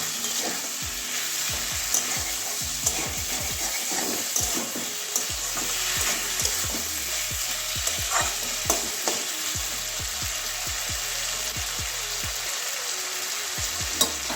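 Snails cooked with salt frying in a pan while being stirred, a steady sizzle broken by repeated clattering knocks and scrapes from the spoon at an uneven rhythm, heard close and alone.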